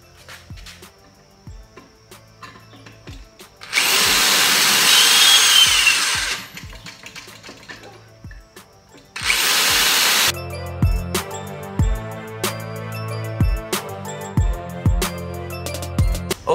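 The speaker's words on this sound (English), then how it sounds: "I'm just gonna keep drilling." A power drill whines in two long bursts while drilling into a vending machine lock, separated by quieter mechanical clicks and scraping, with more clattering taps afterward.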